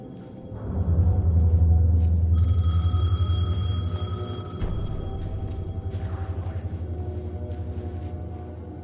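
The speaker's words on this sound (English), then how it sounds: "The payphone was ringing." A payphone rings loudly in the video game Alan Wake 2, repeated electronic ring tones over a low droning background, with no speech.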